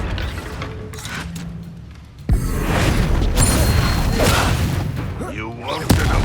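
A Confringo blasting spell in Hogwarts Legacy sets off a sudden loud booming blast that gives way to a sustained rumbling roar, with a second sharp thump near the end over a continuous noisy background.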